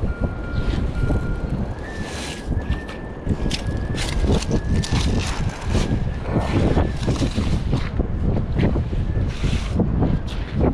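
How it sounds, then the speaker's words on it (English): Strong gusty wind roars across a UK beach during metal detecting, buffeting the microphone in loud, continuous blasts with surf-like rumble underneath. "Our wind has got really strong."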